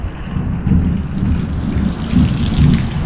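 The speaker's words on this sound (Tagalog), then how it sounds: "Oh, may lakas ng kulog." Loud, deep thunder rumbles continuously through a heavy rainstorm, with rain pouring on surfaces close by.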